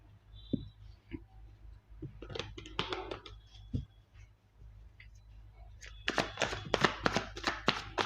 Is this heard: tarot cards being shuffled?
yes